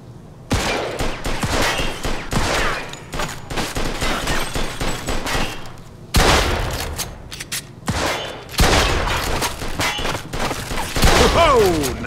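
Rapid bursts of gunfire fill a Mafia 2 shootout, loud and close, with dense volleys and booming shots broken by brief pauses before firing resumes.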